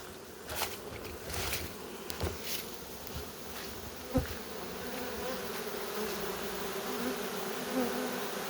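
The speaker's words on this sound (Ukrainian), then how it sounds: "Все, рій сидить. Закриваю." A honeybee swarm in a hive hums in a constant, fairly faint buzz, with a few light taps and clicks over it.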